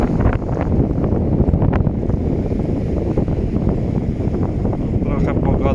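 Strong wind buffets the microphone on the beach at Rewa spit on the Polish Baltic coast, a loud continuous roar with gusts throughout.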